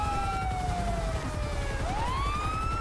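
Police car siren in the video game GTA V with the LSPDFR mod, a continuous wailing tone that sweeps down and then climbs again, steady and moderately loud over a low engine rumble.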